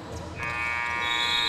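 A basketball game-clock buzzer at a junior girls' school championship game sounds a sustained, loud electronic tone that starts abruptly and holds to the end.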